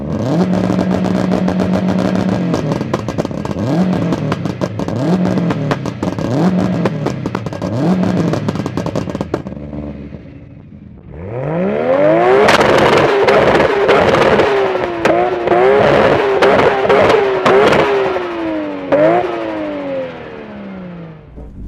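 A Subaru Impreza WRX and a Nissan R34 Skyline are revved in turn, one with a run of repeated rising blips, then after a brief lull the other with louder, longer sweeping revs, both close and loud.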